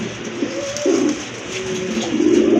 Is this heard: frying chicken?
no